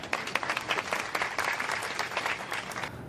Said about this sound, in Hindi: तालियों की आवाज़ आ रही है।